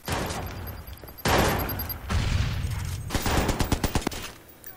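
Dense gunfire in the video game Watch Dogs during a fight at an army base, with sustained loud bursts followed by a rapid run of close individual shots.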